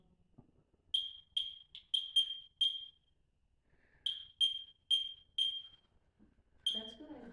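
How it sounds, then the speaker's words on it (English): A beeping ball toy gives short, bright electronic beeps in quick bursts of five, a pause, then another run of beeps, with a brief voice near the end. "Can you make it stop beeping?"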